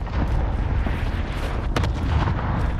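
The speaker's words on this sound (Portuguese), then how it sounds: "Enemy cluster strike incoming." Cluster strike explosions in Call of Duty: Modern Warfare, a loud continuous barrage of rumbling booms with a couple of sharper bursts near the middle and no talking.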